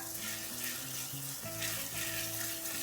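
Rotisserie chicken risotto simmering in a pan gives a continuous, dense bubbly sizzle, close and steady throughout, with faint tonal music underneath and no talking.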